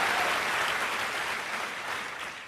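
Dense congregational applause at an Easter church service, a broad wash of clapping that starts full and slowly tapers off, loud and close throughout.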